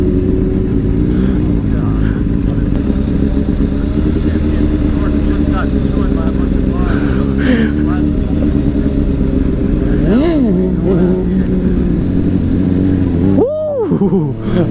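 A sport motorcycle ridden at speed, its engine a loud, steady drone close up with wind roar throughout and a few brief pitch swoops, while a rider talks over it.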